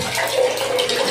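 Water running and splashing as a tank is drained during a float-less level switch test, a steady close hiss of flowing water with no talk over it.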